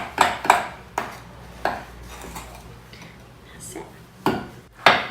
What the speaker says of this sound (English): So give it a good mix.